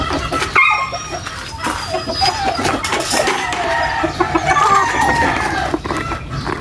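Backyard chickens cluck and a rooster crows among other farm animals, a dog included, after rain in the Philippines, with ongoing chatter and busy outdoor noise throughout.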